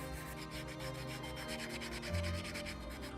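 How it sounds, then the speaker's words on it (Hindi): Sandpaper rubs along a wooden handle stick in fast, even back-and-forth strokes, close up and continuous, with no voices. "फिर इसे रेतना है।"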